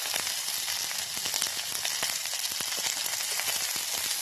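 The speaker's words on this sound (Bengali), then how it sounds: "হালকা করে একটু কড়াইতে এর সাথে এরকমভাবে তেলে ভেজে নেব।" Ingredients fry in oil in a wok, giving a dense, even sizzle with scattered sharp crackles and pops, close and moderately loud throughout, without any talking.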